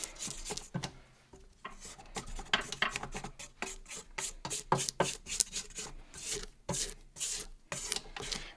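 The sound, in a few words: scraping down and mixing cookies and cream brownie batter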